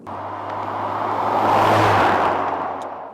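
A Cadillac ATS fitted with a Renick Performance exhaust system drones steadily as it passes, swelling louder toward the middle before easing off, with no voices.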